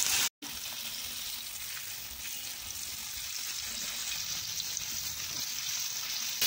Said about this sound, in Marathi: तळण्यासाठी तेलामध्ये सोडलेलं आहे